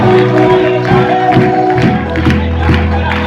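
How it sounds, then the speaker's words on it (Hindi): Audience at a Hindi-language seminar session breaking into sustained applause with cheering and whoops, loud and dense throughout, a crowd filling the room. "अनिल दलाल सर के लिए बहुत जबरदस्त ताली होनी चाहिए।"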